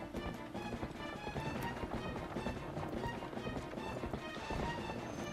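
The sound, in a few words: horse hooves galloping in The Legend of Zelda: Twilight Princess video game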